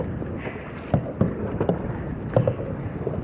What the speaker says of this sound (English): So the trick I'm using right now is paddling diagonally.